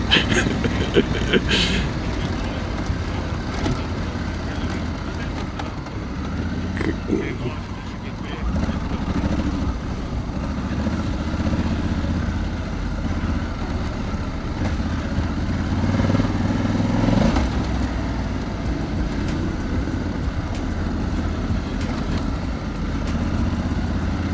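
Enduro motorcycle engines rumble and rev continuously close by on forest and gravel trails, with wind noise and occasional talk over the riding.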